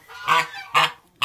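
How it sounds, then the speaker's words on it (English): A goose honks three times at close range, each honk short, loud and harsh, with brief quiet gaps between them and no talk. "Oh, you crazy little goose."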